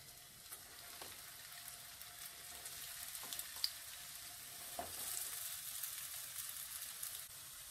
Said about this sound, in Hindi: अब हम इन्हें शैलो फ्राई कर लेंगे